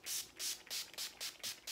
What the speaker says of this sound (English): So let's just spray this all over our face.